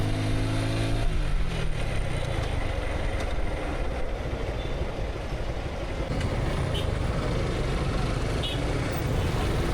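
An older Suzuki Gixxer motorcycle engine runs with a loud, continuous, close rumble that holds steady throughout, the exhaust note bearing a reported sound problem.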